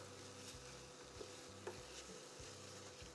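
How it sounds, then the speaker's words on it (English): Rice being stirred in oil in a pan for a basic risotto, a faint soft scraping and light sizzle with a few small clicks of the utensil, heard alone. "Give it a good stir."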